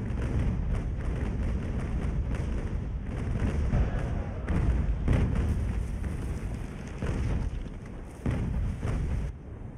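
Repeated heavy cannon broadside fire from sailing warships in the Ultimate Admiral: Age of Sail naval battle game, a dense run of booming thuds and rumbling blasts rolling continuously, loud and close, with no talk.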